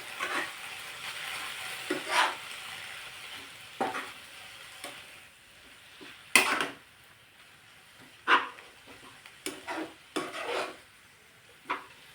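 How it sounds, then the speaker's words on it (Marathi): Green chilli and garlic being stirred in a pan after a splash of water, a spoon scraping and clinking in repeated bursts over a soft steady sizzle, close and clear with no talking. "पुन्हा एकदा मिक्स करून घेते"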